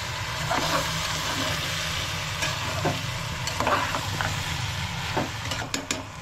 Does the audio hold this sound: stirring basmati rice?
yes